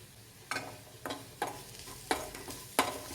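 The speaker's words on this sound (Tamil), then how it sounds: "தேங்காவை நெய்யில் இந்த மாதிரி லேசாக வறுத்து விட்டிங்கன்னா" Grated coconut roasting in ghee in a pan for sweet red rice puttu, with five distinct stirring scrapes and brief sizzles spaced about half a second apart over a quiet background.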